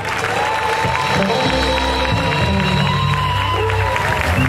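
Applause and cheering from an audience at a 2024 awards ceremony closing, a dense steady roar of clapping and crowd noise with some voices mixed in throughout.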